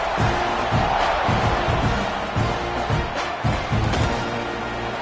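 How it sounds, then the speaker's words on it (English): A college football stadium crowd between Texas A&M and USC buzzing after a score, a broad, sustained roar with rhythmic swells from the stands, heard at a distance. "this crowd is buzzing after that last score"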